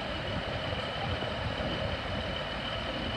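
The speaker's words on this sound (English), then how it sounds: "There you go, Transpennine Express. That'll be a 185." TransPennine Express Class 185 diesel train passing through Stockport, a dense, steady broadband rumble with engine drone and rail noise, fairly close and continuous, no talk.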